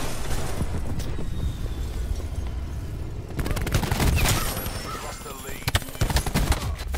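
Rapid submachine gun fire from a VMP in Call of Duty: Black Ops 4 erupts midway in dense, fast bursts over a steady game backdrop, with sharper cracks near the end.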